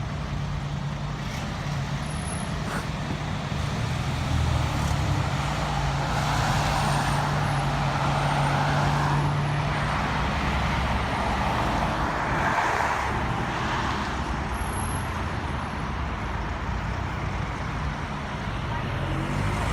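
Steady road traffic on Widmore Road heading into Bromley on a weekday morning, a continuous rumble of cars and heavier vehicles passing close by, with one low engine drone standing out partway through.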